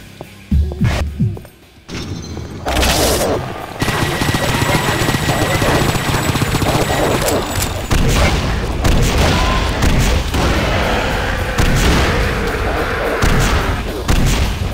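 Grenade launcher fire in the shooter Painkiller, a sustained barrage of loud booming blasts and explosions filling most of the stretch after a brief quieter opening, with a voice talking underneath.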